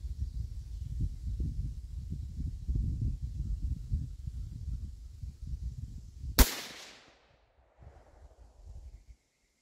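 A Savage 17HMR rifle fired once at a shooting range, a single sharp crack cutting through low wind rumble and handling noise, followed by a brief decaying tail and quieter shuffling.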